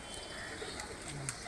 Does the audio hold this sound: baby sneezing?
no